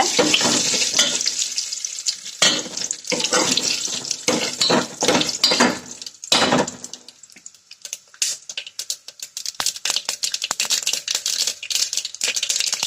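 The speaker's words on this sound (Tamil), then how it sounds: "இது வந்து நல்லா பொரியட்டும் பொன்னிறமாக வர வரைக்கும் விடுங்க" Drumsticks (moringa pods) frying in oil in a pan for a Tamil stir-fry, giving a steady close sizzle with bursts of louder crackling and clatter early on, then a softer continuous hiss.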